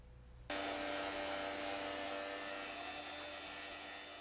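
A small vacuum cleaner switches on abruptly and runs with a steady, close, loud whirring hum while cleaning a small mummy, holding its tone throughout with no talk.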